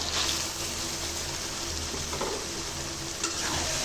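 Lentils are stirred into chicken frying in hot oil, giving a continuous close sizzle with scraping stir sounds throughout, fairly loud and unbroken.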